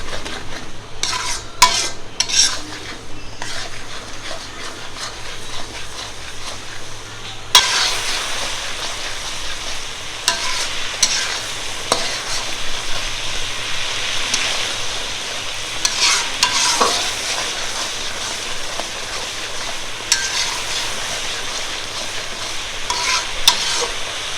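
Spice paste of coriander and cumin for mango pickle is stir-fried over medium heat in a pan. A loud, continuous sizzle runs throughout, with repeated scraping strokes of a spatula and clinks of utensil against the pan.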